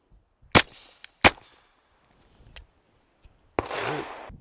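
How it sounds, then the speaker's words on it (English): A Glock 17 pistol fires ball training rounds into a body armor panel: two sharp, loud close shots in quick succession, a fainter click later, then a rustling noise. "I have just a couple ball training ammo loaded up by G9 bullets coming out of my Glock 17"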